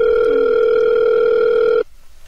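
A steady electronic telephone tone sounds as a prank call is placed, holding loud and unbroken for nearly two seconds before cutting off abruptly into quiet.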